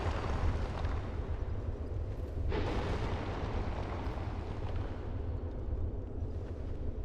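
Fiery bomb blasts in Dark Souls 2's Black Gulch, a dense continuous rumble with a sharper burst near the middle, loud and close with no talking.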